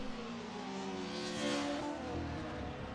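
A DTM race car engine in a racing video game at the Norisring circuit revs high and steadily, holding near the redline with slight pitch swells, loud and close, no voices.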